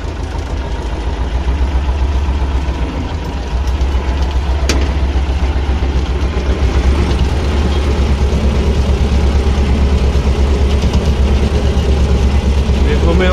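A vehicle engine idling and running steadily as the driver sets off, a constant low rumble close by with faint rattles and a voice speaking over it.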